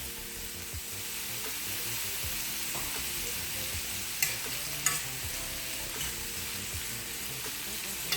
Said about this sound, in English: We're going to let that saute for a couple of minutes.